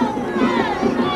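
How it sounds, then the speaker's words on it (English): A high school football crowd for Calera, Alabama, in 1995 cheers and shouts in a brief, dense burst of many overlapping voices, steady and fairly loud, heard from a distance. "Calera sure does have a pretty strong crowd over there"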